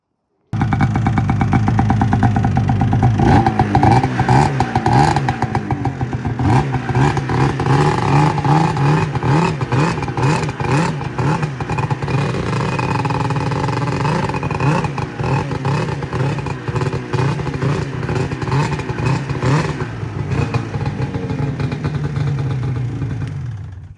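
A two-stroke engine with rave valves runs rough on two cylinders, misfiring with a loud, uneven popping chatter that rises and falls in pitch as it revs, heard close and continuous without speech.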